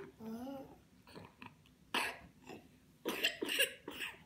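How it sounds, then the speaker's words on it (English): A child coughs in several short, harsh bursts with brief pauses between them, fairly close and loud, after some soft vocal sounds at the start. "You poor stinky cough."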